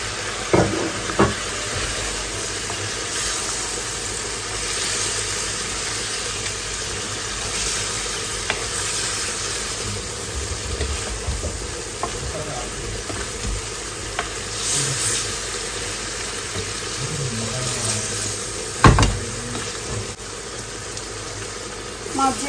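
Pieces of fish sizzle and fry in a pan of cooked-down spice masala, a steady hiss with occasional stirring scrapes and clatter, no talking.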